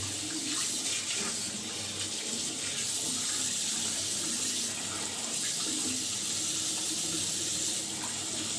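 Tap water runs steadily into a sink, drawn to prepare for a classic wet shave with a Henson clone and BIC Chrome Platinum blade; a constant close hiss and splash with no pauses.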